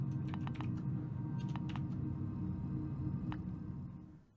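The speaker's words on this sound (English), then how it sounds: "Let's have a look what happens if I type in my name." Quiet clicks of a computer keyboard as a name is typed, a few scattered keystrokes in short bursts over a low steady hum, no talk.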